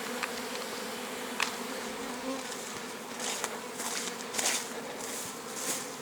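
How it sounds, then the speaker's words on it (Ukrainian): A swarm of foreign bees crawling into an occupied hive, a dense, steady buzzing drone of many bees with a few individual bees passing louder and closer. "Рій чужий лізе, преться до мене у вулик у заселений."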